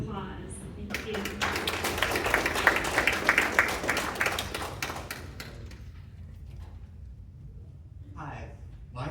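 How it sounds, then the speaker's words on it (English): A burst of clapping from a symposium pitch competition audience, dense and steady for a few seconds, then thinning out and dying away. "So let's give them a round of applause."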